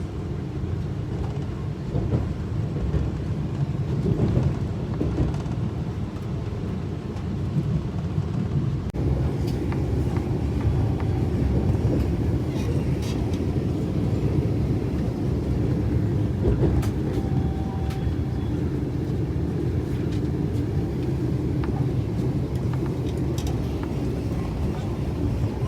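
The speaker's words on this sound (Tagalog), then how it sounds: "super smooth talaga ng takbo ng train na ito" Inside a Vande Bharat superfast train running smoothly at speed: a steady, continuous low rumble of the carriage, with light rattles and faint clicks over the whole ride.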